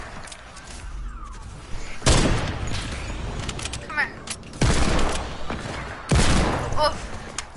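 Gunfire bursts in a first-person shooter video game, several loud rapid volleys spaced a second or two apart, heard close under excited talk from players.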